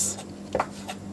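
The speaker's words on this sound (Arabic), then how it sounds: "هكمل تقطيع القوانص" A knife chops through chicken gizzards on a board in a home kitchen, giving two or three close, soft thuds spaced out over about a second, with no voices.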